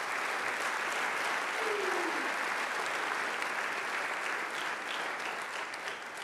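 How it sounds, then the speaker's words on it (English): Sustained audience applause at a 2018 sports awards ceremony honoring student athletes, a steady dense wash of clapping at moderate distance that holds evenly throughout, with no speech over it. "Let's give them a round of applause here"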